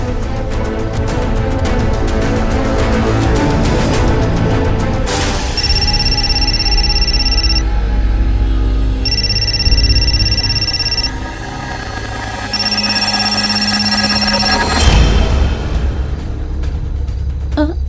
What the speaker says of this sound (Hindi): फोन मिलाइए उसका।